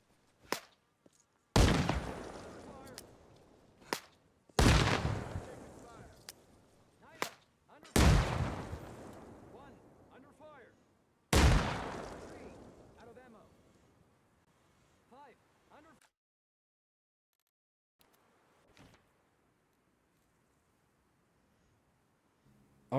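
Standard grenades detonate against an LAV armored vehicle in Arma Reforger, four loud, sharp blasts spaced a few seconds apart, each trailing off in a decaying rumble, followed by fainter scattered pops.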